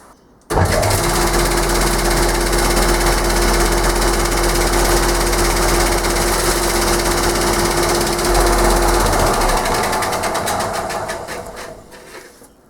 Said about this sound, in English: I'll use the belt sander again on the bottom